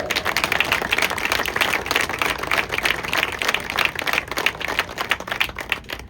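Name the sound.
audience applause for Carl Merrill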